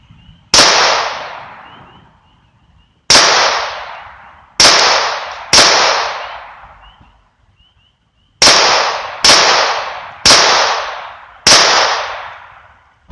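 Eight loud, close gunshots go off one at a time at irregular intervals, each a sharp crack followed by a fading echo, with silence in between and no talking.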